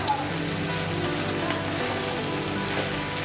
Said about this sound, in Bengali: আবারও কচুরলতিটাকে ভেজে নিব 2 মিনিটের মতো